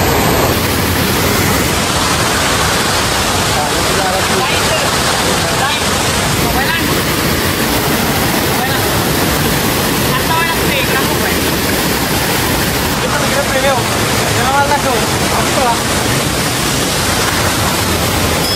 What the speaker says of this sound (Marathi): तर इथं जरा पाण्याचा प्रवाह कमी आहे